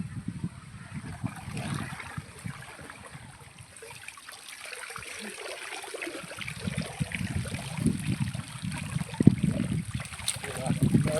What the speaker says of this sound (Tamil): தண்ணி ஓடிட்டு